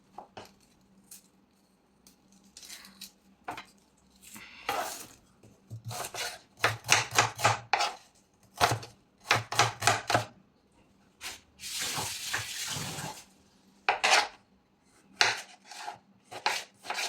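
A knife chops fresh curry leaves into big pieces on a board in a home kitchen, irregular bursts of crisp cutting strokes and taps separated by short pauses, close and fairly loud with no talking.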